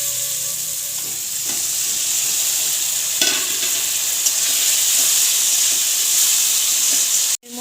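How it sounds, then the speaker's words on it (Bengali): A loud, steady hiss of steam and sizzling rises after water is poured into a hot pan while cooking a Bengali fish-roe and potato curry, continuing evenly for several seconds and then cutting off abruptly near the end. "এর মধ্যে এখন দিয়ে দিব একটু জল।"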